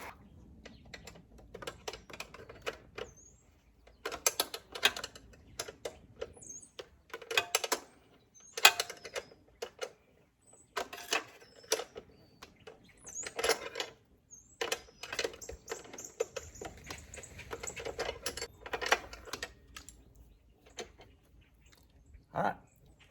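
A wrench ratcheting on pannier rack bolts of a Honda CRF300 Rally with a Tusk rack, heard as bursts of rapid mechanical clicking separated by short pauses, close and quiet.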